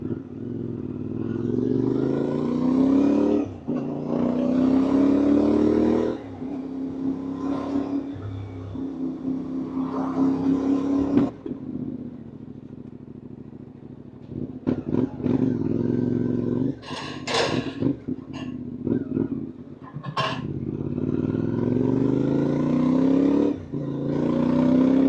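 A CFMoto MT450 motorcycle rides on a highway, its engine revving up through the gears in rising sweeps with wind rush and a few clattering knocks, close and steady.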